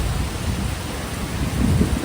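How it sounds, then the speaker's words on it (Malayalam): Heavy rain pours steadily in a thunderstorm, a dense, loud wash of noise with deep low rumbling that swells near the end, and no voices. "നല്ല മഴ."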